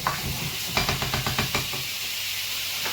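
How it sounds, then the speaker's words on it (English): Food sizzles in a hot pan with a steady hiss, and a run of quick knocks or stirs sits over it partway through. "You hear the sizzle of what's going on in the pan?"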